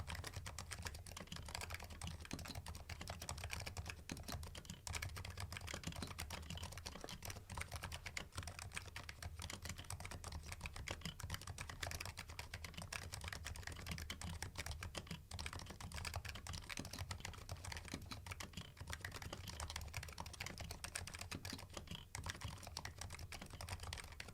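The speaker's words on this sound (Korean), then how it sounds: "이제 가장 중요한 타건 소리 바로 들려드리겠습니다" Steady typing on a Razer mechanical keyboard, a continuous patter of key presses under a low background hum, fairly quiet and even, with no one speaking.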